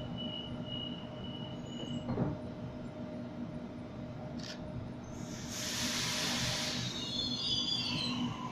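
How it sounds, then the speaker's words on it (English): Sydney suburban train pulling away from a platform, a low steady rumble with a brief wheel squeal and a sharp hiss, then rising rushing noise as it gathers speed, fairly faint and without talk. "A77 is now departing from platform number one"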